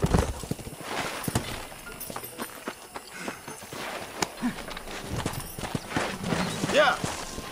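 Horse hooves clip-clopping in the video game Red Dead Redemption, a string of uneven hoof knocks with a brief whinny, heard close under a voice talking over it.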